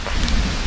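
Steady rain falls over a forest campsite in the hills, a dense, even hiss of drops, with no voices present.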